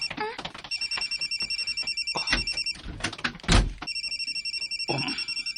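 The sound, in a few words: phone ringing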